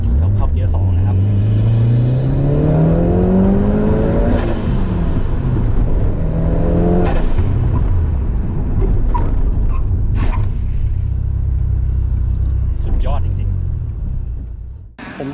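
A Mitsubishi Lancer Evolution 6.5 Tommi Makinen edition accelerates in second gear, its engine note climbing steadily in pitch from inside the car before easing off into a lower rumble, loud and close, with someone talking over it.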